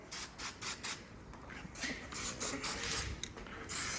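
Block sanding primer on a car body, a series of rhythmic rasping strokes back and forth, close and clear, with brief pauses between bursts and no talking.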